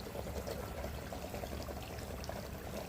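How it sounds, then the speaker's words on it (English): A dragon head fountain in Aomori, Japan spits water into a pond, a steady pouring splash that runs continuously at moderate level with no talk. "You've got this dragon head fountain spitting out water."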